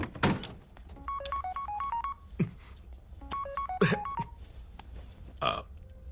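A phone rings with repeated electronic melodic tones in two bursts, separated by thuds and rustling, no talking.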